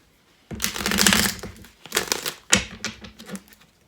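Two bursts of papery riffling, a long one then a shorter one, like a deck being shuffled close up, with a few soft card taps between.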